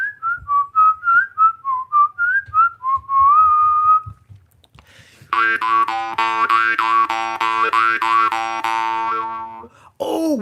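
A person whistles a bouncy, clear melodic tune to mimic a jaw harp, with a rhythmic, shifting pitch. A sustained buzzy harmonic drone follows, loud and close.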